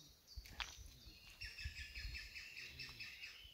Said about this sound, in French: On entend beaucoup d'oiseaux.